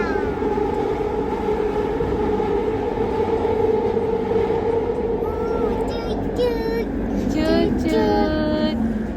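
An LRT train runs on a Kuala Lumpur line, a steady loud rumble of wheels and motors with a rising whine, while faint voices talk inside the carriage.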